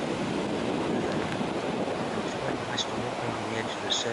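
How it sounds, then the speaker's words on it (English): A continuous, moderately distant roar of ocean surf at Harlech washes steadily, with faint wind and a few brief higher sounds near the end. "the roar of the surf"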